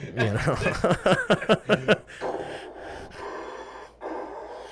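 A voice imitates Darth Vader's heavy mechanical breathing with a few rhythmic, raspy breaths, followed by softer breathy noise and room sound.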